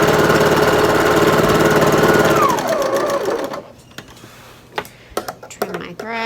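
A domestic sewing machine stitching the final seam of a quilt row, a fast buzzing whir that winds down and stops, then scattered clicks and handling noises. No voices are heard.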